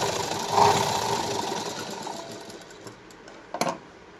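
A sewing machine runs steadily and fairly quietly, double-stitching the shoulder seam of a blouse, a continuous mechanical hum with a brief clack of handling near the end.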